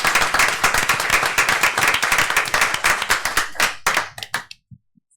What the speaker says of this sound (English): give you all a round of applause for what y'all